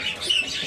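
Caged female kinoi birds in a bird shop give a brief, faint, high chirping, alone and at a short distance.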